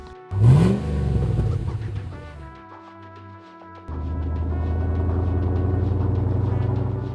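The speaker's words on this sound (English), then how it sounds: "Project Mule is powered by our LS3 engine with automatic transmission." An LS3 V8 with automatic transmission in a custom Land Rover Defender 130 barks through a sharp, loud rev, eases off, then settles into a steady, close engine drone.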